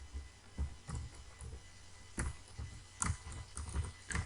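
Keys clack on a computer keyboard in short, irregular clusters of quiet close taps, with brief pauses between the groups of strokes.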